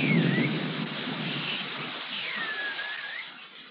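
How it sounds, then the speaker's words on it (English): Heavy tropical jungle rain pours as a steady, dense hiss, with low thunder rumbling beneath it throughout; no voices are heard. "In the tropics, rain comes swiftly and heavily, and streams may flood in a flash."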